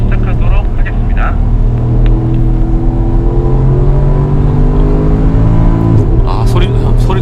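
A Porsche Cayenne Turbo or Macan GTS engine revs and accelerates hard on Inje race circuit, its pitch climbing and dropping through gear changes, heard from inside with people talking over it.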